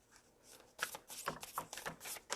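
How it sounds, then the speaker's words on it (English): Tarot deck being shuffled by hand, a string of soft papery riffles and slides in irregular bursts, close and fairly quiet, with no voices. "One more shuffle."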